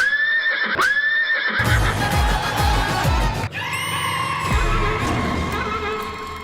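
A horse whinnies loudly near the start, followed by a dense, noisy stretch with another high neigh partway through.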